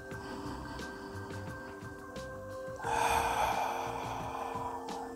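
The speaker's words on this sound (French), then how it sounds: "prendre le temps de prendre trois profondes respirations" Slow, deep breaths taken during a guided relaxation pause, with one fuller inhale and exhale swelling up around the middle over a steady soft tonal backdrop.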